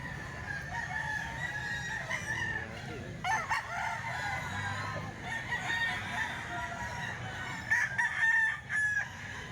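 A rooster belonging to Boss Albert crows repeatedly at moderate distance, with clucking and other farm sounds mixed in over a steady outdoor background.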